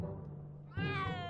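A cat meows once in the Back to the Future video game, a clear, drawn-out cry rising over a low background hum.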